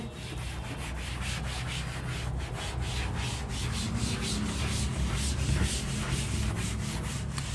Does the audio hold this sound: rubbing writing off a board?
yes